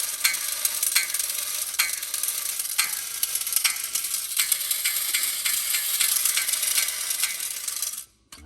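A Marx Rocket Fighter toy rocket runs with a continuous fizzing, crackling hiss and regular ticking clicks from its sparking flapper for several seconds, then cuts off abruptly.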